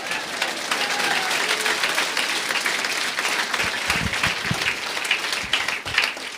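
A church congregation applauds, a steady, fairly loud sheet of many hands clapping that continues for several seconds with a few sharper claps toward the end.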